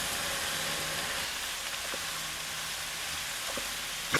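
Chopped garlic and mushrooms sizzle steadily in a frying pan, a constant even hiss with faint clicks and pops, moderately close and with no one talking.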